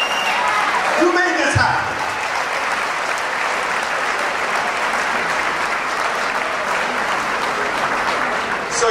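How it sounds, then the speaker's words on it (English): A gala audience in Toronto bursts into loud, sustained applause that carries on without a break, with a voice briefly speaking over the clapping near the start. "give yourselves the biggest round of applause"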